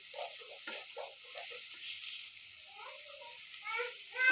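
Garlic fries in oil for a beef and potato dish, giving a soft, steady sizzling hiss with light intermittent clicks and faint scraping, fairly quiet and alone.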